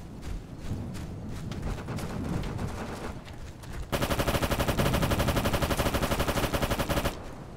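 Machine-gun fire from the military shooter game Operation Flashpoint: Dragon Rising: scattered shots and battle noise, then a loud, rapid sustained automatic burst for several seconds, with no talk.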